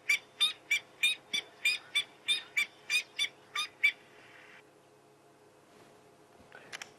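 A bird in the Sabi Sand bush gives a loud, close series of about twelve rhythmic squeaky, metallic calls at a steady pace. The calls then stop, leaving a quiet natural background with a few faint sounds near the end.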